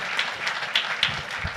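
A city council meeting crowd gives a departing teacher a short burst of applause, with dense, moderately loud clapping from a room of people and no talking.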